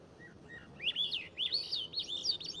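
Bird chirping in an urban forest setting, a few soft notes followed by a series of rapid, bright trilling phrases, clear but fairly quiet with no talking.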